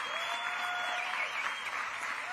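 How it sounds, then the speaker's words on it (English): A crowd at an outdoor topping-out ceremony for a new building in Buffalo applauds the construction workers; the clapping is fairly soft and distant, a steady patter with a thin, high whine gliding through it. "Let's give another round of applause to all the hard workers."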